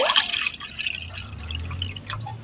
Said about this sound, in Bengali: তো আরও পানি দিয়ে দেবো এখানে